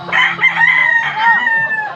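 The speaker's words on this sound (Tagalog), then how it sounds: "Mga manok. Mga manok." Roosters kept as fighting cocks crow and cluck close by, one long drawn-out crow with rising and falling tones followed by a second, backed by a low steady hum.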